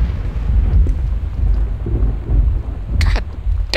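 Thunder from the video game Gone Home rumbles loud and low through a steady downpour of rain, with a sharper crackling burst near the end.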